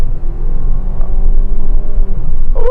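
A cheap car's engine revs hard with the pedal held to the floor on fresh gas, loud and steady as the variable valve timing kicks in, with a rising pitch near the end.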